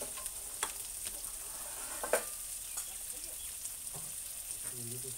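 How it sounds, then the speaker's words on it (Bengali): Onion frying in oil with whole garam masala, bay leaf and panch phoron, a faint steady sizzle with occasional spoon scrapes and taps, and a brief voice near the end. "পেঁয়াজটা ভাজা হচ্ছে"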